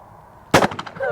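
A single loud shotgun blast fired while clay or game shooting with a Browning or Beretta, a sharp broadband crack with a short decaying echo, followed by faint voices.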